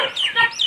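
Chickens clucking at a village poultry farm where chicks are raised, a close, loud run of short clucks and squawks heard alone.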